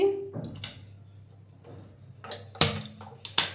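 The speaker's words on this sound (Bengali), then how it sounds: "প্রথমে আমি গ্যাসটাকে অন করে দিচ্ছি।" A gas stove is switched on before cooking a fish roast: a few sharp clicks and a brief hiss of ignition, close and fairly quiet, separated by near silence.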